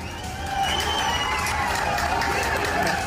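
Afghan viewers watching India's cricket win on TV celebrate with a dense, steady crowd roar of cheering and clapping, heard loudly throughout.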